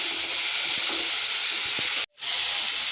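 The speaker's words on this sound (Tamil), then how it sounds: "நம்ம ஸ்டவ்வை வந்து நல்லா மீடியம் ஃப்ளேம்லேயே வச்சு நம்ம இதை வதக்கி எடுத்துக்கலாம்" Tomatoes and onions sauté in a pan over a medium flame, giving a continuous bright sizzle and hiss with a few soft stirring knocks, broken near the end by a brief moment of silence.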